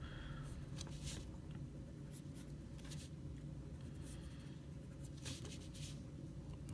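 Pencil sketching on paper while drawing a vehicle, a close, continuous scratchy scraping broken into short strokes and pauses, with no speech.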